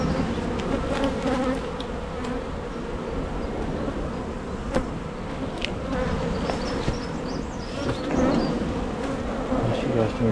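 Honeybees buzz in a dense, continuous drone around an open beehive during an inspection of a colony with a supersedure queen, steady and close for the whole stretch with no voices.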